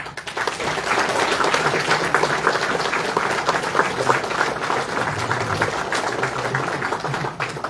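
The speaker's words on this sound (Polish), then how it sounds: "To zapraszamy, wielkie brawa." A hall audience welcomes a Polish MP at a public meeting in Łuków with sustained, dense applause that holds at steady volume throughout.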